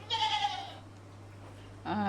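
A goat bleats twice while being milked by hand, a wavering cry at the start and another near the end, close and fairly loud with quiet between.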